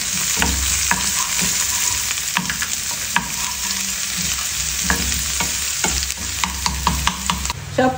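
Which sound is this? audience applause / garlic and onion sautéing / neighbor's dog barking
garlic and onion sautéing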